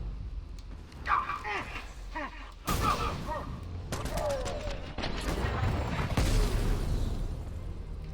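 Sentry gun firing in Batman: Arkham Knight, sharp loud bursts of rapid shots breaking in over game background noise, with a voice speaking between them.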